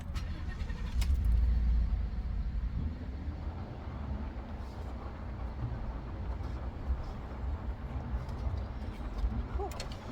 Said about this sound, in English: I'm going to go ahead and start my truck real quick.